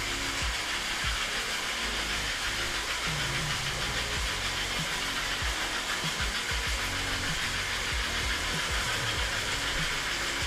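An American Flyer toy steam locomotive runs on its track with a steady, continuous mechanical whir and rumble, close and even in level throughout, with faint rattling clicks from the rails.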